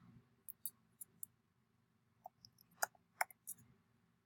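A computer mouse clicks several times close by, with sharp isolated taps spaced unevenly and a quick cluster near the end, over a faint quiet room hum.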